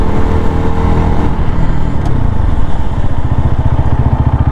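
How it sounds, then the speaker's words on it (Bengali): A Speeder NSX 165R V3 motorcycle with ABS during a brake test, its engine loud and close, the tone dropping as it slows and settling into a steady throbbing idle. "এটা ব্রেক টেস্ট করে দেখি।"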